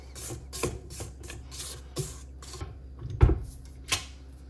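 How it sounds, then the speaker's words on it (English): A spatula scraping down the sides of a mixing bowl of cowboy cookie dough, several rough, uneven swipes close by with a couple of sharper knocks against the bowl. "we're gonna scrape down the sides again"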